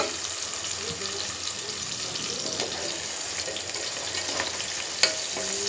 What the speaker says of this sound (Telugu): ఆనియన్ కూడా వేసేసుకుంటున్నాను. కొంచెం ఫ్రై అవ్వాలి మనకి.